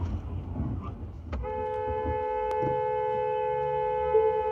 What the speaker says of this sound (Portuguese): A buzina foi o motorista